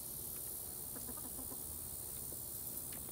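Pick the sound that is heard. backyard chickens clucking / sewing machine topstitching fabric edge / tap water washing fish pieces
backyard chickens clucking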